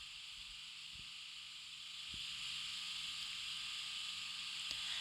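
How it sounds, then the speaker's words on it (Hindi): Half a cup of oil in a pan with a large chopped onion sautéing over medium heat, a steady close sizzling hiss that grows slightly louder midway and carries on without a break. "प्याज को हम मीडियम आंच पे सौटे कर लेंगे। और इनको हल्का सा फ्राई करेंगे हम।"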